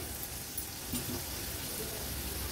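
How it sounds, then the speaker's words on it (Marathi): Crushed garlic cloves and a small piece of ginger frying in hot oil in a pan for an Agri-Koli style crab thali, giving a steady, soft sizzle throughout with no talking. "थोडासा तेलावर आपल्याला हा परतून घ्यायचा आहे।"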